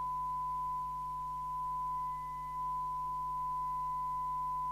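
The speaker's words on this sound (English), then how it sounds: "there we have the sine wave showing" Steady sine wave test tone from a Colt 355 UK CB27/81 mobile CB radio on the service bench, a constant pure hum holding level for several seconds with no talk over it.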